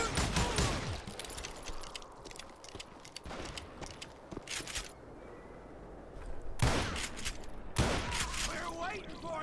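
Gunfire from a Wild West shooter game, Call of Juarez Gunslinger: bursts of shots and a fusillade across the whole stretch, with sharp louder blasts near the end, under shouted voices.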